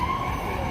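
A New York Presbyterian Hospital ambulance siren wails briefly and steadily amid Midtown Manhattan street noise, fairly close and with no talking over it.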